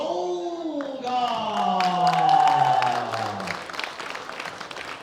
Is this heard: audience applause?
yes